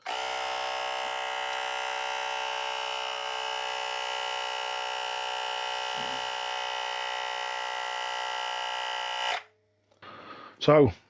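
A portable electric tyre inflator pumps a tyre up toward 42 PSI with a steady, loud motorized buzz lasting about nine seconds before cutting off, followed by brief clicks and handling sounds.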